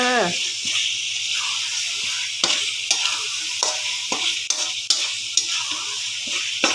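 Minced pork stir-fries with roasted chili paste in a hot pan: a steady sizzle with repeated spatula scrapes and knocks, while a voice talks briefly over it.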